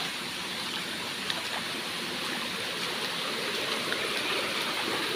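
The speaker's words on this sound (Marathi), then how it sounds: "हे बघा, विहिरीच्या दोन्ही बाजूंनी पाणी येतंय" Water rushing steadily along a stream in a Konkan village, a continuous loud splashing and gurgling with no voices.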